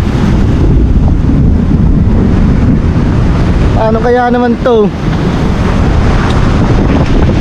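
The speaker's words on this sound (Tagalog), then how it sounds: "ang lakas pa ng hangin, nagsama pa ng panahon. Ay pa ng alon." Strong wind roars steadily into the microphone with surging waves beneath it, out on open water in stormy weather; a voice briefly asks a question midway through the gusting.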